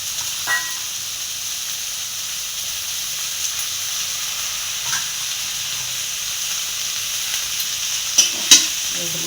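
Leafy greens fry in a pan for a Bengali home-cooked dish, giving a soft steady sizzle and hiss with a few faint scrapes and clinks from stirring near the end, and no talking.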